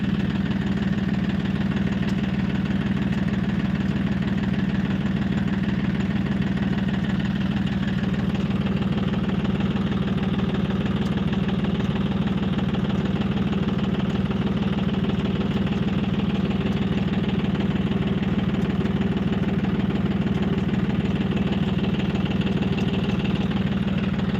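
A large harvesting machine engine cutting a pigeon pea crop runs continuously with a steady low drone and rattling vibration, loud and unbroken throughout.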